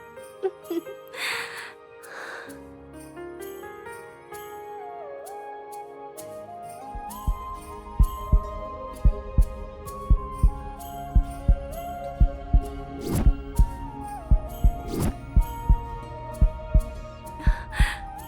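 A steady heartbeat pulses from a Hindi TV drama scene, a regular low thumping that begins partway through and continues over soft tonal music and hum.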